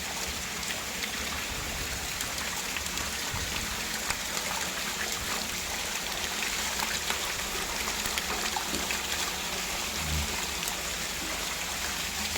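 Water pours steadily into a fish tank holding tilapia fingerlings and catfish during a water change, a continuous close rushing trickle with no talking.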